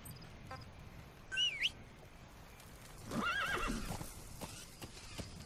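A horse in the video game Metal Gear Solid V whinnies twice in quick succession, then a longer neigh follows, with faint hoofbeats and a low background hum.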